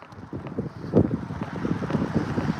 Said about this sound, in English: I don't know if we've got away from the wind.